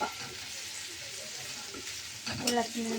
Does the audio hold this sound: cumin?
yes